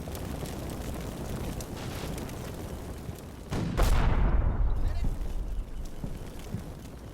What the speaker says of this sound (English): they were taking direct shots with that AT gun